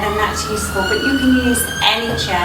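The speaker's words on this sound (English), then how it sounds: "Sorry about the sirens going off there." Emergency sirens wailing outside during an indoor yoga lesson, rising and falling tones drifting in from a distance beneath a woman's spoken instruction.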